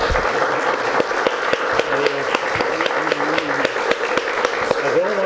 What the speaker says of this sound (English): I think we should give Tony a big round of applause.